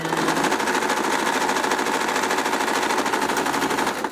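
A sewing machine stitches through fabric for a Waldorf doll head, running as a steady, loud, continuous rapid rattle the whole time.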